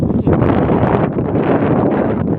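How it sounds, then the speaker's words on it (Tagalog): Strong desert wind near Dubai buffets the microphone in a steady, heavy rumble, with faint rustling underneath and no clear voices. "Hangin."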